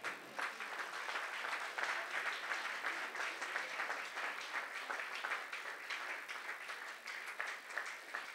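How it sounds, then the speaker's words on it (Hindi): A live audience claps loudly to welcome a performer at an Indian folk music concert, with dense, steady applause filling the hall for about eight seconds. "जोरदार तालियों से स्वागत कीजिए."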